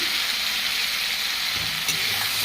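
Spices and rohu fish fry in a pan with turmeric and salt for a Bengali fish curry, giving a steady, close hiss with faint crackles and a brief stirring clink.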